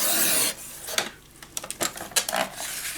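Paper for a wildflower mini album is trimmed into 1-inch strips on a cutter. A long rasping stroke comes first, followed by a run of short, sharp scrapes and taps, close and moderately loud.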